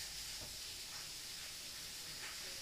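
Paneer pieces fry in a pan for butter paneer curry with cashews and green peas, a steady close sizzling hiss that runs throughout.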